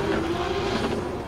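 A Subaru BRZ drift car fitted with a 2JZ engine holds a steady, droning engine note at a distance, loud and continuous without pauses, with no voices over it.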